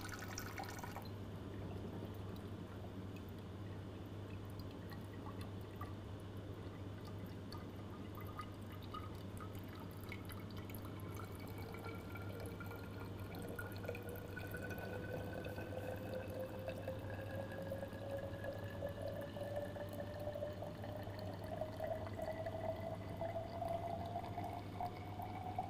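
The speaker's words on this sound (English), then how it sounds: "Now we'll start collecting water and timing it." Water trickles and drips steadily into a collecting container during a constant head permeability test on soil, the pitch of the filling rising gradually over a constant low hum.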